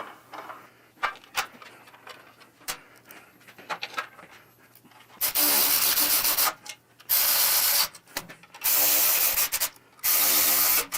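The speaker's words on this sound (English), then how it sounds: "Put our fender up into place and replace those 4 bolts." Bolts being driven back in to secure a fender on a Softail motorcycle, with quiet tapping and handling noises first, then four loud, sustained bursts of rapid ratcheting or power-driving, close up, with no talking.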